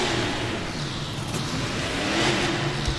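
Megalodon monster truck revving its engine at an A-J Monster Trucks Apex Tour freestyle in Detroit, a loud sustained roar rising toward the end, crowd noise around it.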